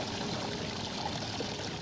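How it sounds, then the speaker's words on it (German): Water draining out of a pipe in Die Kunst des Mordens 3, a steady rushing, pouring flow heard alone and fairly loud. "Das Wasser ist aus der Röhre abgelaufen."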